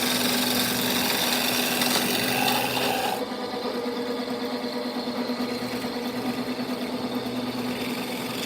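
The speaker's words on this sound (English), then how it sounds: "Let's try the small scraper and see if it helps, because that tear out's horrible" A small hand scraper works across wood with rough tear-out, rasping loudly and steadily for a few seconds before the scraping turns quieter and lighter, with no voices.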